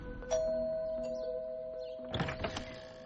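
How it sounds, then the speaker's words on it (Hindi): A two-tone electronic doorbell chime rings out clearly, followed by a brief clatter of other indoor sounds near the end. "तभी डोरबेल बजी।"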